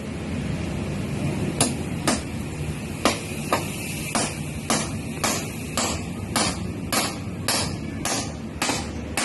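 A hammer strikes stone during house building on a rainy day: about a dozen sharp, evenly spaced blows, each a crisp crack rising over a steady rain-like hiss, moderately close.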